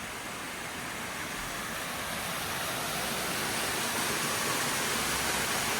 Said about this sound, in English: we're next to a waterfall, like a mini waterfall